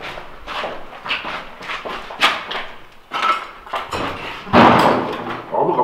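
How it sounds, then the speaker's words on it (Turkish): A soft indoor door closes among a scatter of thuds, creaks and shuffling footsteps, with one louder bang near the end. The sounds are fairly close and cluttered, with faint voices in the background. "Kapı mı kapandı?"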